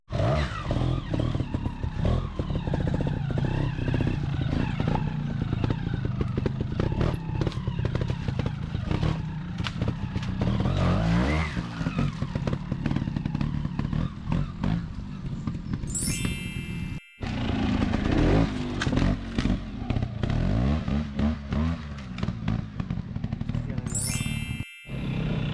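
A trials motorcycle is ridden close by, its engine blipping and revving in uneven bursts with clattering over rough terrain throughout, and a voice talks at times over the engine noise.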